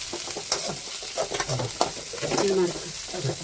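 Chicken curry masala sizzles and fries in a pan while a spoon stirs it with scraping strokes, steady and close, with no talk over it.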